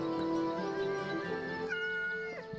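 A cat meows in the video game Yes Your Grace, a drawn-out, tonal meow with a rising and falling pitch, heard clearly and alone against faint background.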